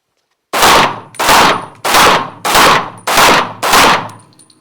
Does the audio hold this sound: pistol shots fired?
yes